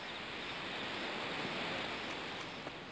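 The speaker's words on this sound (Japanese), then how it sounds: "シャワー浴びてと。" A shower runs in the video game Boku no Natsuyasumi 2, a soft, steady hiss of falling water, faint and unbroken for a few seconds.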